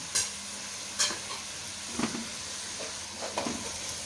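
Onions sauté in hot ghee with a steady close sizzle, broken by a few sharp scraping stirs at irregular intervals.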